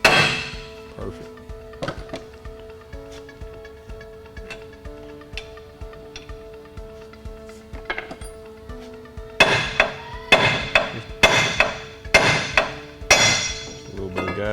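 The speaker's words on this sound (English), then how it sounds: "all that's needed to remove the steering knuckle is a BFH." A hammer pounds a 2011 Chevy Duramax LML steering knuckle free. Scattered clinks and taps give way to a rapid run of loud, ringing metal-on-metal blows, close and percussive, with faint talk underneath.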